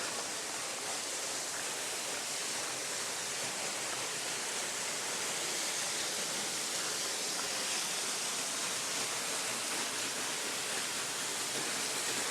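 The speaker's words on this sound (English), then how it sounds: "The water sounds like it's all around you." Water rushing through an echoing wilderness waterfall area, a dense steady roar that fills the whole space evenly, with no voices.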